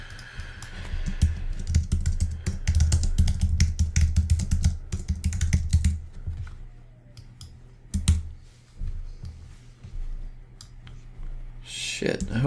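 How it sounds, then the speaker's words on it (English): Rapid clicking of computer keyboard keys while someone types, dense bursts of keystrokes that thin out toward the end, with a voice talking over parts of it. "I'm just going to type it."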